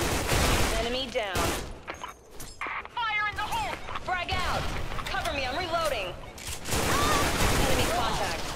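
Rapid gunfire bursts and shots in the video game Special Force 2, loud and dense across the whole stretch, with a player talking over the shooting.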